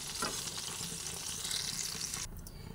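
Pointed gourd (potol) frying in hot oil in a pan, a steady close sizzle and crackle with stirring scrapes, ending in a quieter stretch as the pieces are lifted out.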